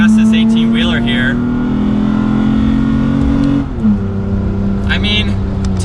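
A 3rd-generation Toyota Tacoma pickup with 5.29 gears accelerates to pass an 18-wheeler, its engine droning steadily and rising in pitch before a brief dip as it shifts, heard from inside the cab with someone talking over it.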